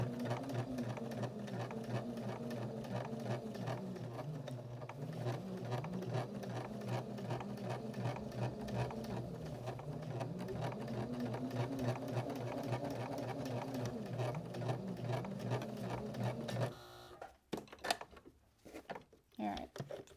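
A sewing machine stitches along a scalloped shirt edge in a fast, steady mechanical whir that runs for most of the stretch. It then stops and gives way to a few scattered knocks and rustles.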